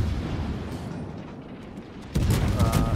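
Naval gunfire from the cruiser Des Moines firing HE shells in World of Warships: a steady battle rumble that jumps to a louder, denser run of booming shots at about two seconds and keeps going to the end.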